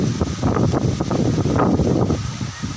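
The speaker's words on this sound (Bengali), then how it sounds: "বৃষ্টি পড়তেছে, বাতাসের তীব্রতা আরো বাড়ছে" Strong Kalbaishakhi storm wind roars loud and unbroken, buffeting the microphone with gusty rushes as rain falls, and no voices are heard.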